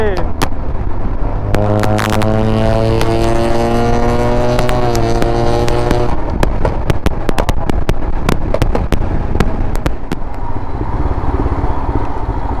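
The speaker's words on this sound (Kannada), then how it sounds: "ಏನೋ ಹೊಡಿತಾನ್ ಪಟಾಕಿ" Firecrackers burst on a Bangalore street, a rapid, irregular string of sharp pops over a loud, droning engine and wind rumble.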